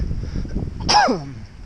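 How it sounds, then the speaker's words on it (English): A single sharp cough bursts out close to the mic, preceded by soft low breathing or rustling. "I don't know why I'm coughing so much right now."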